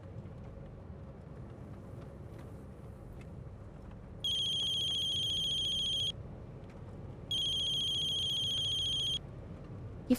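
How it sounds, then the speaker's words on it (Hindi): A phone rings in two long electronic bursts separated by a short pause, clear and fairly loud over a low indoor background hum, with no one speaking. "ये फोन भी अभी बजना था।"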